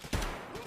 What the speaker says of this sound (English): Oh, shots going off.